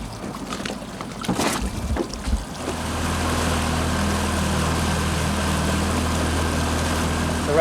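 A sailboat's small dinghy outboard motor runs steadily at idle during a test ride, a low continuous hum joined by water noise after a few seconds of bumping and handling sounds.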